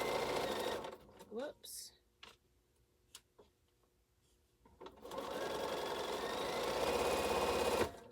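A sewing machine stitching a string quilt block, running in close rapid bursts with a pause of quiet handling in between, while someone speaks briefly.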